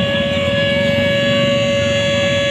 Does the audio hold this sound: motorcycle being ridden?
no